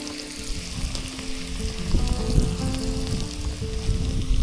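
Ginger, onion and garlic sautéing in hot oil at a car campsite, a loud, steady sizzle with crackles and occasional stirring, without talk.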